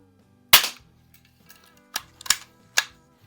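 A Daisy 195 Buzz Barton air rifle fired in several sharp, close snapping shots, one loud crack followed by three more spaced over a few seconds, with quiet gaps between them and no talking.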